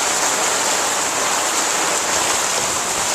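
Heavy rain during a rainstorm pouring onto a patio, a loud, dense, steady hiss of water throughout with no voices.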